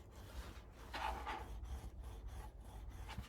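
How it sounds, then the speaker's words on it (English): A tool burnishing the channel of a 6 1/2 x 8 1/2 scrapbook mini album, giving soft repeated rubbing strokes over paper in a steady back-and-forth rhythm, close and quiet with no voices. "I'm gonna burnish it again and go in this channel"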